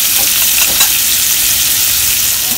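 Lamb ribs searing in a frying pan make a continuous loud sizzle with a few brief crackles early on, heard close up without any voices.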